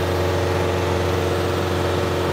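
A John Deere compact tractor engine runs at full throttle with a steady, loud, droning hum and strong low harmonics that stay constant the whole time.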